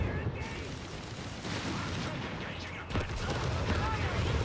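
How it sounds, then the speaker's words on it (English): Artillery shells landing in a real-time strategy battle game, a dense rumbling barrage of muffled booms and crackling impacts at steady volume, heavier toward the end. "Here lands the artillery."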